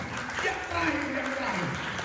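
A church congregation claps during a worship service, a dense, even wash of hands continuing steadily beneath a voice speaking over it.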